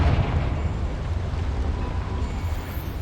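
Confringo blasting spell going off in Hogwarts Legacy, a loud, sustained low rumbling roar with a heavy booming body that stays steady for about three seconds with no voices.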